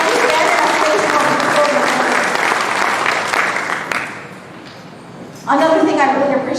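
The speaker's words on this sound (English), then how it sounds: "Can we give a round of applause for Multicultural Center?" Applause from a gala audience for the Multicultural Center, a loud, close burst of clapping that fades out partway, leaving a quieter gap before voices and music-like tones return.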